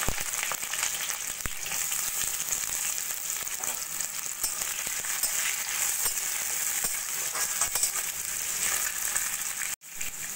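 Chopped vegetables sizzle steadily in hot oil with grated ginger and slit green chilies, a dense continuous frying hiss with faint stirring scrapes and a brief clatter near the end.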